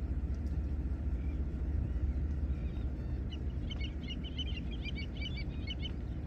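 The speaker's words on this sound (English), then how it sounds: "I hear birds." Birds singing at Sunset Lake Park in Portland, Texas, faint chirps and short song phrases at a distance over a steady low rumble of traffic.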